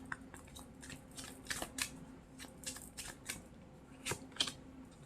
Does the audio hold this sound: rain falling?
no